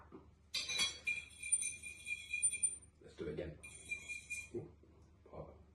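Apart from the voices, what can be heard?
fork clinking against dishes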